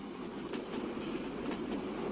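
A train runs in a 1968 Iranian film, a steady rumbling roll of wheels on track with faint rhythmic clatter, heard alone and fairly close.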